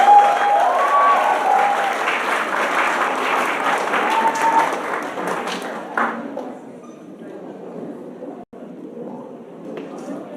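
Audience applause at a 2024 awards ceremony, welcoming the School of General Education: steady, dense clapping from a large crowd that fades a little after the first half, with faint voices mixed in.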